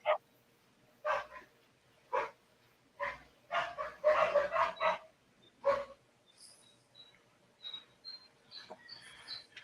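A dog barks in a series of separate outdoor barks, several spaced out and then a quick burst of close ones, with fainter bird chirps coming through afterwards in a quiet early-morning neighborhood.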